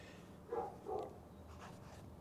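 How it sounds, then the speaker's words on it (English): A neighbor's dog barking next door, two short muffled barks close together heard faintly from a distance against quiet background hum. "there's a next door neighbor dog barking"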